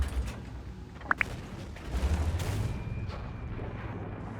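Tank cannon fire and impacts in a tank video game, with a sharp short metallic ping followed by a deep booming rumble and mechanical creaks.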